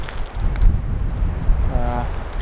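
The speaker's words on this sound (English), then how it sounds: "It is very windy" Strong wind buffets the microphone in a low, rumbling roar at a Torridon viewpoint in Scotland, with a brief faint tonal hum near the end.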